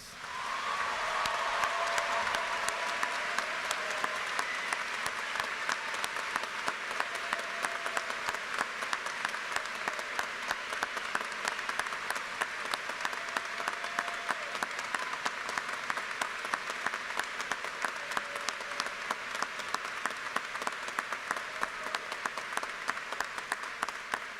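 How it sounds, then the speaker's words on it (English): Sustained applause from a graduation ceremony audience at Germantown honoring students who have joined the Army and Marines, a dense, even roar of many clapping hands that carries on steadily for over twenty seconds. "Please offer these students a round of your applause."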